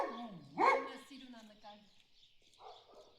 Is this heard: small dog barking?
yes